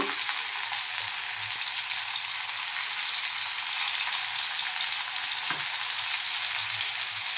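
Bombay duck (bombil) fish, coated in semolina, fries in oil in a pan with a loud, dense, continuous sizzle that stays steady throughout, with no talking.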